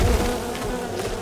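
Bees swarm in the survival video game Len's Island, making a loud, dense, continuous buzzing drone that fills the whole moment with no other sounds.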